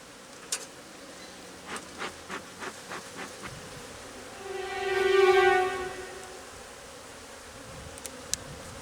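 Honeybees buzz during hive work, a swelling drone that rises to a loud peak near the middle and fades, with a few soft taps and clicks before it and a sharp tick near the end.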